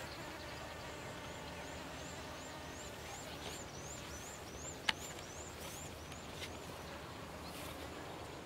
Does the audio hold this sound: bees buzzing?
yes